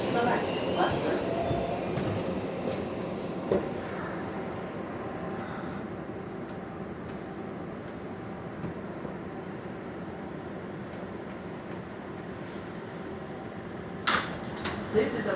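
An R142A subway train runs on the 4 express line toward Bowling Green, heard from inside the car as a steady rumble of wheels on track with occasional clanks and a brief squeal near the end, with an announcement voice over it.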